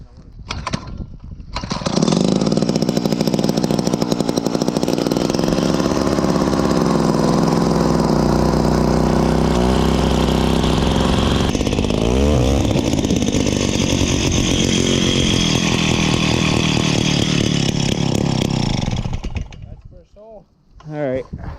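A gas-powered ice auger drills holes through lake ice along a Maine shoreline during a blizzard, its two-stroke engine roaring loud and steady for nearly twenty seconds before cutting out.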